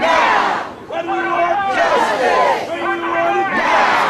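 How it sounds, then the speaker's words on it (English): Protest crowd in New York City chanting for justice after a verdict, loud rhythmic call-and-response shouts in repeated bursts with a leader's voice and massed replies. "The crowd is chanting, what do we want? Justice."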